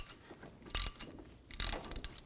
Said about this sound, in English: now we're going to just tighten them up, and hopefully this rotor will just pull right off the hub